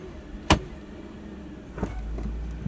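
A Mercedes G-Wagon stranded in the rain is shifted into low gear: a sharp mechanical clunk comes first, followed by a low engine or motor rumble and a couple of softer knocks, heard up close inside the vehicle.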